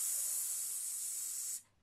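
A classical singer imitates a pressure cooker with a steady, loud, close hiss of breath held for about a second and a half before cutting off sharply.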